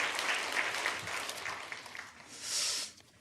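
A church congregation applauds together in a broad, sustained wash of clapping that swells toward the end and then fades.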